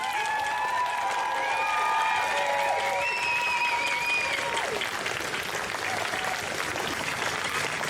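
Crowd applause at a trans pride march in Melbourne, a steady wash of clapping and cheering from many people outdoors, with whistles or calls rising over it and the sound thinning toward the end.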